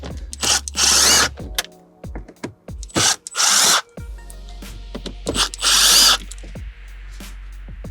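Power screwdriver backing out T20 screws from a car interior panel, several short whirring bursts separated by pauses, with small clicks and handling noises in between, close and clear with no speech.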